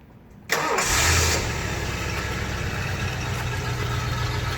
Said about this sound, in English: We're going to do a cold start right now.